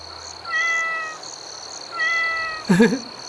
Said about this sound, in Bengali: মনে হয় বিড়াল ছিল, ভয় পাইয়া গেছিলাম।